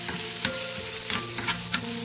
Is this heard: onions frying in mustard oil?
yes